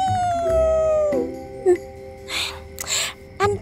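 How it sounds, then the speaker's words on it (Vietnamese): A dog howls in long drawn-out wails that slide downward, followed by short yelps and whimpers, close and fairly loud, with brief breathy noises between cries. "Thì chó nhìn thấy ma mới hú đó."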